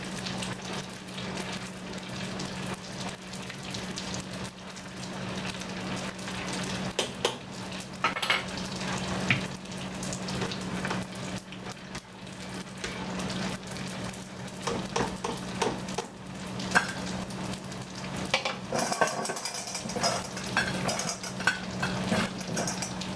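Pasta pieces crackle and sizzle in a hot pan with occasional stirring and scraping of a utensil, steady and fairly quiet.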